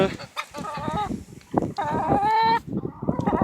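Ornamental chickens cluck and call in repeated short bursts close by while feeding, with a few longer drawn-out squawks mixed in.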